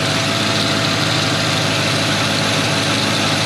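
A 2003 Ford Mustang GT 4.6 V8 runs steadily with the AC clutch engaged, giving a loud, constant, close engine drone with a broad whirring hiss and no pauses.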